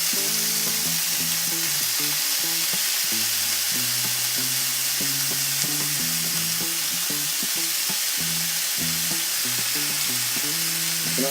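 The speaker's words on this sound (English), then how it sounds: "Should be enough fat from this bacon where I don't have to put any oil." Bacon sizzles steadily in a heated pan with no added oil, a loud continuous crackling hiss with occasional sharper pops, alone without talk.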